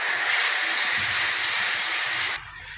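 Spice paste hits a hot pan for a cabbage dish, giving a loud, steady steam-like sizzle that drops suddenly to a softer hiss near the end, with no talking.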